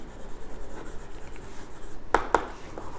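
A pen or chalk writes out an accounting example. Faint scratching runs close by under low background hiss, with two sharp distinct strokes or taps near the end.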